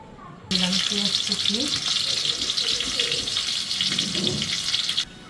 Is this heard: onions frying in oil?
yes